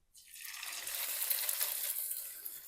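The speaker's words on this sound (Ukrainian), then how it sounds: "котлетка смажиться" A homemade burger patty fries in a pan on parchment paper, with sizzling that starts suddenly and holds as a faint, steady, close crackle, no talk over it.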